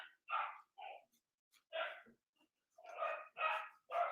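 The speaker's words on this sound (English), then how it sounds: "The way our dog barks, I'm surprised any kids will come over here." A household dog barks in a loose burst of about seven sharp yaps over four seconds, moderately close but fairly quiet, with brief gaps between them and no talk.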